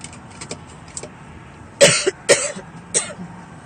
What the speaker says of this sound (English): since this cough is not going to stop